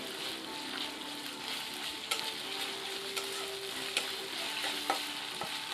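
Mustard oil and spices are stirred in a frying pan over a quiet, steady sizzle, with scattered spatula taps and scrapes close by; no speech.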